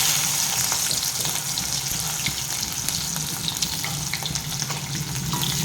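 Onions dropped into hot oil in a home kitchen, a steady loud sizzle and crackle of frying that continues evenly throughout, close and alone.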